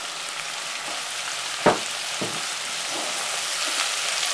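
Butter beans being stirred into butter or oil in a soup pot for Brussels butter bean soup give a steady, close sizzle, with one sharp stirring knock partway through.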